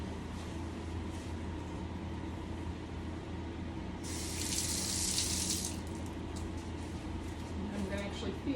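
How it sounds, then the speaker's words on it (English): A tap runs briefly, filling a small cup with warm water, a soft hiss for a couple of seconds, over a low steady background rumble. "to fill it up with some warm water."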